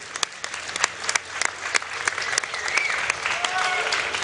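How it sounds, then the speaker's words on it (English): Steady applause from an audience at the 2011 League of Legends World Championship in Sweden, many hands clapping continuously with a few louder claps and a faint voice or whistle rising over the crowd. "can I get a round of applause for yourselves for showing up here and being supportive?"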